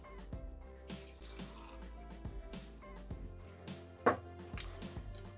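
Water pours into a Thermomix TM6 bowl over a stock cube while chicken with almonds is being made, a steady running splash with a few clinks and knocks close by, no talking.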